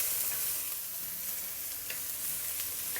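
Chopped young ginger and garlic fry in sesame oil in a pan while being stirred, a constant close sizzle with light scraping touches, no speech.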